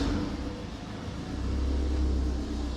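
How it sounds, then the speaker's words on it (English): A car engine revving in a workshop while it runs on a base map, a low steady rumble that swells as the revs rise and then holds, close by with no talking. "Does it go up when we rev?"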